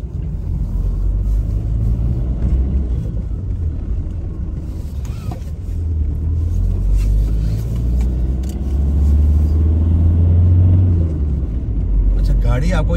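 A car engine hums steadily at low pitch while driving slowly along a countryside road near Halifax, swelling slightly as the car turns, with someone talking over it throughout.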